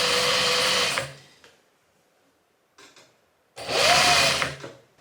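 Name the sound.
sewing machine sewing summer shorts back to front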